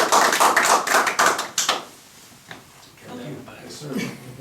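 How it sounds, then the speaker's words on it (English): Hand clapping at a town board meeting, a quick round of loud claps for about a second and a half that stops abruptly, followed by quieter room sounds and faint voices. "Ask Dad to give her a hand clap."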